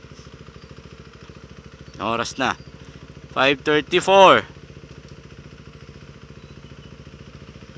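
Motorcycle engine chugging steadily at low speed through bumper-to-bumper traffic, a close, even rumble that runs under a few short bursts of someone speaking.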